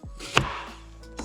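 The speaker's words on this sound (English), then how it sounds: "go on this angle towards the head, cut the head out, flip it the other side, do the same thing." A knife cuts the head off a mackerel during filleting, giving a single sharp cut or chop against the board followed by a faint second tap, close by and quiet.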